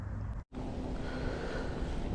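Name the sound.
strong wind at a lake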